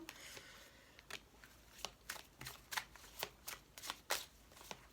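Tarot cards shuffled by hand, a quick series of soft riffling and slapping bursts in an irregular rhythm, close and fairly quiet.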